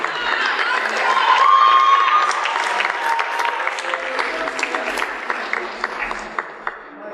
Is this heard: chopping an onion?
no